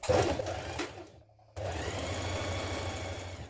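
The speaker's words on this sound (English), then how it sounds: "we're going to stitch down this underarm seam" A sewing machine stitches the underarm seam of a sleeve on a trapeze dress, whirring close in a short burst, pausing briefly, then running again steadily.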